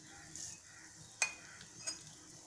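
Nigella seeds go into tomato chutney cooking in a pan, giving a faint, quiet sizzle punctuated by a sharp spoon clink and a softer tap of stirring.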